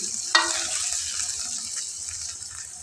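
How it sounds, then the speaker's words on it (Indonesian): Chili sambal sizzles and crackles in a hot pan, with a sharp burst of sizzling near the start settling into a steady frying hiss. "ini sambelnya tak goreng dulu"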